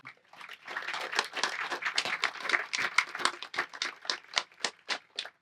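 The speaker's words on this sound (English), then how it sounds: "I think that deserves separate applause" An audience at a Veterans Day ceremony applauds, a dense burst of clapping that thins toward the end into separate distinct claps from a few people.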